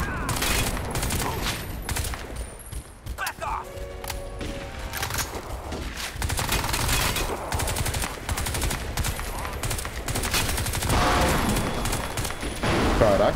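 Sustained gunfire from the shooter video game Crysis 2, rapid automatic bursts and blasts piling up loudly throughout, with a brief quieter moment midway and a voice in Portuguese faintly mixed in.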